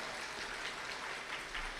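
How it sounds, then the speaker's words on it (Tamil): A packed hall audience at a Silappathikaram festival and 96th birthday celebration claps in a dense, steady wash of applause that runs without a break and with no voices over it. "ஒரு அரங்கம் நிறைந்த கைத்தட்டையாவது நாம் அந்த குடும்பத்திற்கு கொடுக்க வேண்டாமா"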